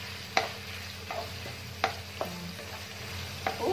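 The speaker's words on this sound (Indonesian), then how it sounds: "ayamnya ditumis." Chicken stir-fried in a pan as filling for popiah, with a steady low sizzle broken by several sharp scraping clacks of a spatula against the pan, close by and with no talk.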